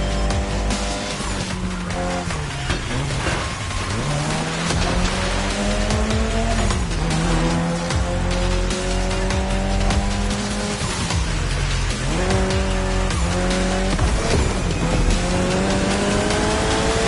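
A Mitsubishi Lancer Evolution racing in Need for Speed Heat, its engine loud and close, revving up and down through gear shifts with repeated tire squeal and skidding.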